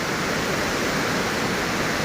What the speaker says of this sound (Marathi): एकदम आकर्षक सर्वांना आवडेल असा हा धबधबा रामपाट धबधबा